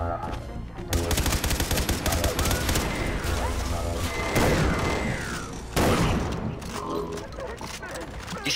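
Shotgun blasts from Far Cry 3 Blood Dragon fire in loud bursts, set against a dense, continuous mix of game noise and music.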